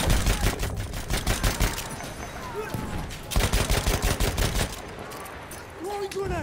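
Dense fusillade of rifle and machine-gun fire in a Battlefield 1 battle, rapid cracks in loud bursts with a brief lull, game voices shouting over the shooting.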